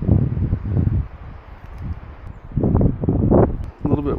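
Low, blustery wind buffeting the microphone outdoors at a building shoot in uneven gusts, strongest at the start and again near the end, with no clear speech.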